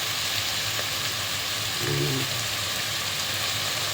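Beef and sausage Bolognese sauce simmering in a pot, a steady soft bubbling and sizzling hiss that runs unbroken from start to finish, with a brief low burble near the middle and no talk.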